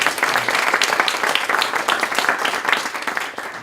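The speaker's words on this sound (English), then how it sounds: "let's give the panel a round of applause" Audience applause for a discussion panel at an online staffing meetup, a dense, steady wash of many hands clapping that stays loud throughout and thins slightly at the very end.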